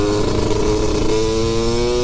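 A Yamaha 250 YZ two-stroke dirt bike revs hard on the throttle, its loud, buzzy engine note holding steady and close for the whole two seconds.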